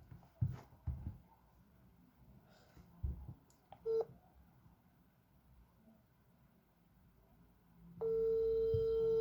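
A WhatsApp voice call being placed from a phone: a few brief dialing tones, then a steady ringback tone starting near the end and holding loud and alone, with faint handling noise before it.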